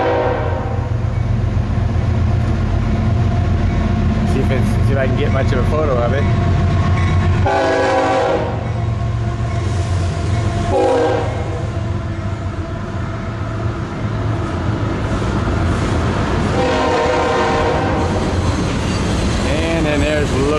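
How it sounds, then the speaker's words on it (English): A train rolls past in Oregon City near the municipal elevator downtown, a loud steady rumble with horn blasts and clanking wagons throughout, while a person speaks briefly over it. "And we got a train coming."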